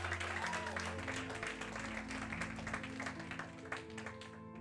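Dense applause from a church congregation rolls on steadily, then thins toward the end, with sustained keyboard chords underneath and scattered voices in the crowd.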